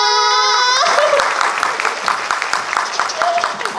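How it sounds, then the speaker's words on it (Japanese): A live-event audience claps in a steady, dense patter after a raised voice calls out a greeting at the opening of a club show in Osaka. The clapping carries on to the end at a fairly loud level. "こんにちはって言ったら拍手でお答えお願いします。"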